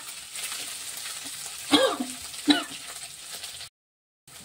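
Ginger and green chili paste with spice masala sautéing in a pan, a soft steady sizzle with two sharp scraping stir strokes partway through, then a brief silence at the end.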